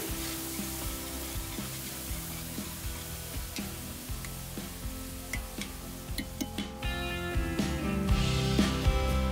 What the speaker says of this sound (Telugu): ఇందులోకి ఇప్పుడు మనం సన్నగా కట్ చేసి పెట్టుకున్న ఉల్లిపాయలు, టమాటా, పచ్చిమిర్చి ముక్కలు వేసుకోవాలి.